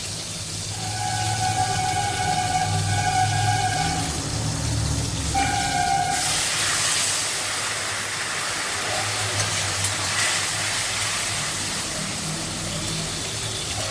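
Hot water pours into a sautéed spice paste in a pan, a steady gushing rush that builds and continues at moderate loudness over a low background hum.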